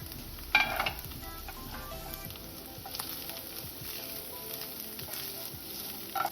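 A quiet, steady sizzle of capsicum frying in a pan, with a sharp clatter of a utensil early on and light stirring scrapes throughout.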